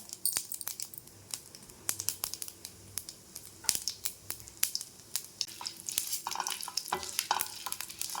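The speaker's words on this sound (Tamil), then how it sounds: "பேன் காஞ்சிச்சு இப்போ கடுகு போட்டுக்கலாம் உளுத்தம்பருப்பு போட்டுக்கோங்க" Mustard seeds and urad dal frying in a hot pan while making lemon rice, with steady sizzling and a series of sharp crackles and pops that grow busier toward the end, close and alone.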